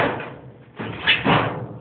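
A Craftsman toolbox drawer slides shut with a short rumbling glide and then a second scraping push ending in a soft knock, heard close by in a quiet room.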